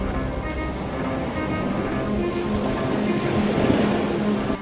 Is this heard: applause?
no